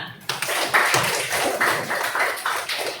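Scattered hand clapping from a small audience at a group presentation during a teacher performance assessment, with sharp irregular claps close by for a few seconds.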